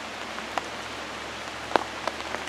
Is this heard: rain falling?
yes